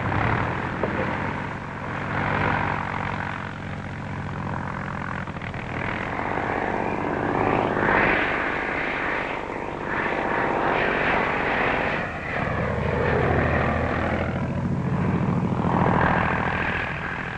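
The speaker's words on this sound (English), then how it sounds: "It's great flying around like this, isn't it?" A 1940s-era propeller airplane in flight gives a steady, loud engine drone that swells and dips slightly for the whole stretch, with no voices over it.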